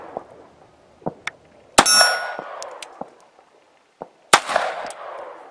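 Gunshots striking a steel jumping jack target at a shooting range: sharp metallic clangs and pings spaced irregularly, two of them loud and ringing, the others quicker and fainter, with no talking.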